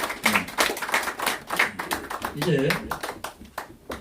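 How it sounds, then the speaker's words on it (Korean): Irregular clapping from a small church assembly celebrating newly installed board members, uneven bursts of hands mixed with talking voices throughout. "우리 박수 한번 우리 자축한 박수 한번 드리기 바라겠습니다"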